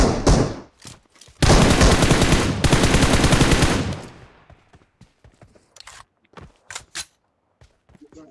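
Automatic gunfire in a PUBG match, a long sustained burst followed by a second burst, then scattered single shots and short clicks tapering off, loud and close with no talk over it.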